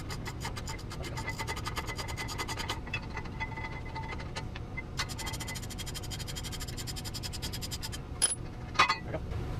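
A ratchet wrench loosening bolts to remove a Volkswagen brake caliper bracket, rapid clicking bursts over a steady background hum, followed by a few sharp metallic clinks near the end, no talking.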